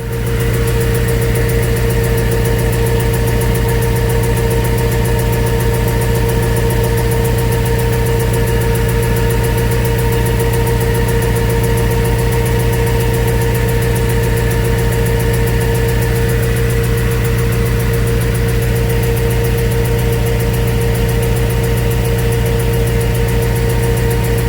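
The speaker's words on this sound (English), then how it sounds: "So that was the ticking noise that was in the car." A Buick Electra engine idling rough with a steady, loud mechanical drone and a persistent fast ticking underneath, continuous and unchanging throughout, with no voices.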